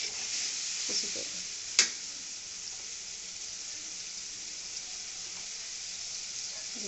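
Masala with chopped ripe tomato and green chilies sizzles steadily in a pan, a near, even frying hiss broken by one sharp clack of a spoon early on.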